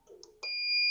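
Alarm board on a Focus Cobra single-pass direct-to-packaging corrugated cardboard printer gives a steady, piercing electronic tone that starts abruptly after faint mechanical noise and holds loud to the end.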